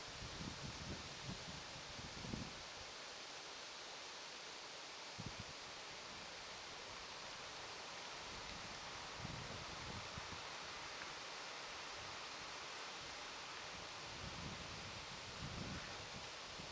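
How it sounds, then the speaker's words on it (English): Wind blows as a steady, soft broadband rush, with faint rustling and a few brief gusty low thumps scattered through it, no talk. "I love hearing the wind blow."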